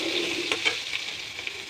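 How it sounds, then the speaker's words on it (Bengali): Fish fries in a pan for a home-style curry with pointed gourd and potato, giving a steady, close sizzle with faint crackles and a few soft stirring scrapes. "মাছ ভাজা হচ্ছে।"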